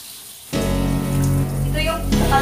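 Water gushes steadily and close by from a tap while a dog is given a bath, starting suddenly after a half-second of quiet and running on without a break.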